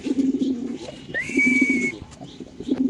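Lahori pigeons at a large pigeon farm in Khilgaon, Dhaka, give low, rolling coos in repeated bursts, close by, with a brief thin whistle rising in between.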